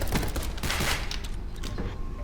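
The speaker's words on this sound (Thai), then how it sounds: "มันบอกเจ้าของทำเกมเลยว่าจะเปลี่ยนเสียงปืนสไนให้ดีเลยนะ" Sniper rifle fire in the Roblox game sounds as a dense, loud burst of overlapping gunshots with no clean gaps between them.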